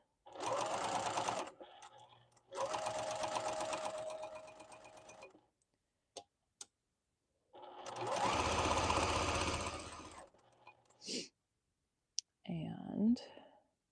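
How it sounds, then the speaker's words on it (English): A sewing machine stitches around the edge of a fabric opening in several close, rapid whirring bursts separated by pauses, with soft clicks and faint handling noises between runs. "I am just going to stitch all the way around"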